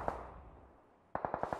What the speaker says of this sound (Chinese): 不过听枪声，这周围的敌人应该不少